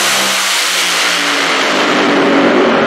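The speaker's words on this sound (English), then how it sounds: "NHRA Top Fuel dragster launch now." An NHRA Top Fuel dragster launches with an overwhelming, loud engine roar that climbs steadily in pitch as it accelerates, filling the whole span with no talk.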